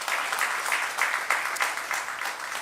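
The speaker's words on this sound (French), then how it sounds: "frère et sœur Claudel, un gros applaudissement." A church congregation applauds together in a steady, moderately distant patter of clapping that lasts throughout.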